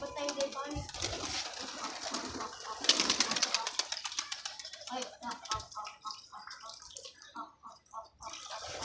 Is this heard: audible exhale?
no